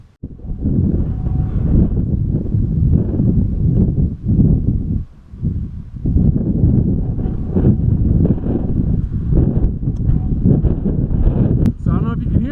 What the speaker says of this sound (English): It's definitely a wee bit windy.